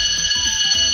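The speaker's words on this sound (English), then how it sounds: "Yeah, it was the timer." A game-show timer alarm rings out with a loud, continuous high-pitched electronic buzzing tone, steady and close for the full second with no talking over it.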